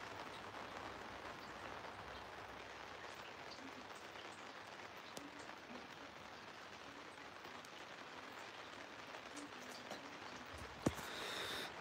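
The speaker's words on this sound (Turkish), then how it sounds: "Bak şöyle yağmur da ya." Steady rain falls outdoors on an evening near Stuttgart, Germany, a dense even patter that holds throughout, with a brief sharper knock near the end.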